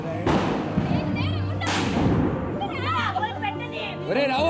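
Diwali firecrackers burst nearby in two loud, sharp bangs about a second and a half apart, with people talking and voices carrying between and after the blasts.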